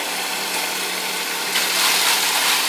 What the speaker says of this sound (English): Here's that motor revving up. This is the vailable speed pump.